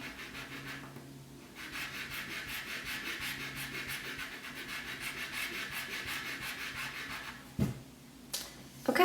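A handmade clay eraser rubs steadily across a surface, giving a continuous close scratchy rasp that runs for most of the time, then a few sharper knocks and scuffs near the end.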